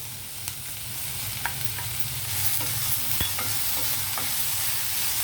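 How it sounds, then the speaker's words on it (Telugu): Onions fry in a pan for a Telugu curry, a steady sizzle running throughout with a few sharp scrapes of the spoon as they are stirred until they colour, no voices present. "ఉల్లిపాయలు కొంచెం కలర్ చేంజ్ అయ్యే వరకు వేగాలన్నమాట."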